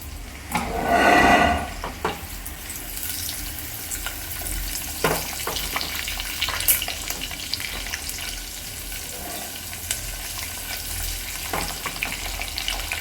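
Chopped green chillies and onions crackle and sizzle in hot oil in a pan, with a loud burst of spattering early on that settles into a steady, softer frying hiss, and an occasional clink sounds throughout.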